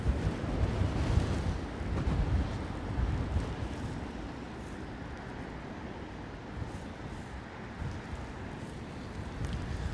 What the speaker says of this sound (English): There's a bit of wind there.